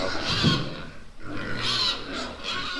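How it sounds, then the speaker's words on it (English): Several pigs grunting and squealing nearby in a dairy farm's pig barn, overlapping loud calls echoing in the enclosed space. "now that I've woke everybody up out here in the pig barn"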